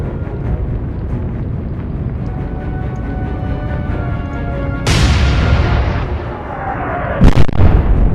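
Naval shells strike a warship's aft section during a sea battle in a naval combat game: a loud, constant roar of heavy gunfire, then a sudden crashing impact and a second sharp blast near the end, with no voices.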